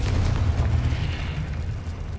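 A fire spell explosion in the Hogwarts Legacy video game, a dense booming burst with a low rumble that fills the short moment at steady loudness.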